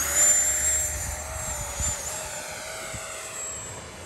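An FMS Rafale 80mm radio-controlled jet fitted with new thrust tubes makes a high-speed pass, a steady whining roar with a high tonal scream that fades slightly as it goes by, heard alone with no talk.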